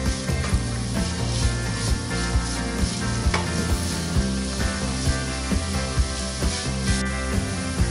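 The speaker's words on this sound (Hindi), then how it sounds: "थोड़ा सा गाजर को मैंने सौते किया है, हाई फ्लेम है।" Carrots sauté in a pan over a high flame, giving a loud, steady sizzle with repeated scraping and stirring clatter throughout, no voices.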